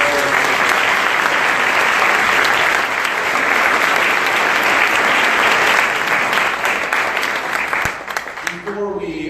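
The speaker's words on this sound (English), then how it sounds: "So if we just get a round of applause." Sustained audience applause at an awards announcement during a livestreamed event, dense loud clapping that fills the whole stretch before thinning out near the end.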